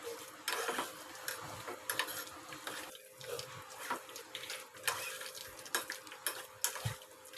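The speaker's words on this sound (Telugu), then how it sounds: "కరేపాకు కూడా వేసేసుకొని ఇలాగే ఫ్రై చేసుకోవాలి కొబ్బరి నూనెలో" Fenugreek seeds and curry leaves frying in coconut oil for a homemade hair oil, with soft sizzling, quiet and close, broken by repeated light clinks and scrapes of a spoon against the pan.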